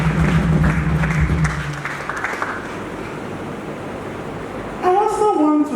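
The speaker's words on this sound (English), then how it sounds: "Can you clap for yourself for that?" Graduates at a 2021 IB Diploma ceremony clap for themselves, a broad wash of applause that fades to a softer patter, with a voice speaking briefly at the start and a musical tone near the end.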